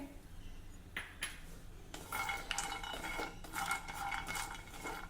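Almonds and cashews roasting in a pan while being stirred: quiet scraping and light metallic clinks of a spoon against the pan, growing busier and steadier after a few seconds.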